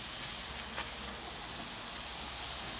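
Onions sizzle and caramelize on a Blackstone flat-top griddle, a steady close hiss with a faint scrape of a small spatula near the middle, no voices.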